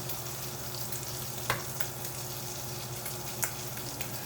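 Bacon frying in a pot for salmon chowder gives a soft, steady crackling sizzle at low volume, with a couple of faint clinks along the way.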